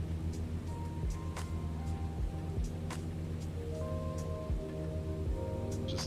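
Rain patters steadily on a Cessna 152 cockpit flying over North Georgia in Microsoft Flight Simulator, a dense hiss with scattered sharper drop hits over a low, constant engine drone.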